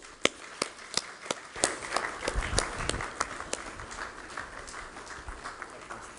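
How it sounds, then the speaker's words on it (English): An audience claps at a welcome ceremony, with sharp individual claps standing out at first before the applause thickens into a steady patter that slowly thins toward the end. "You keep clapping."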